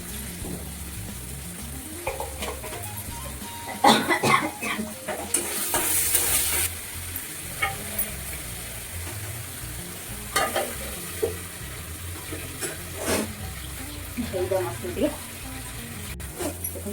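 Masala with turmeric and salt frying in hot oil in a home Odia kitchen pan, stirred with scraping strokes and a steady sizzle, with a few louder clatters and a voice talking intermittently.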